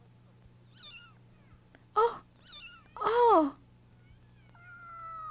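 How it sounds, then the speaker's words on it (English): A cat gives a few short, soft high meows, heard close and faint against a quiet background, while someone speaks briefly between them in an animated series. "Oh, what a beautiful cat."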